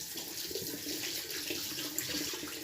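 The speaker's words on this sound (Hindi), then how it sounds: "अब हम इसे खुले नल के पानी से अच्छी तरह से धो लेंगे" Hands being rinsed under an open running tap, a steady close hiss and splash of water pouring without pause.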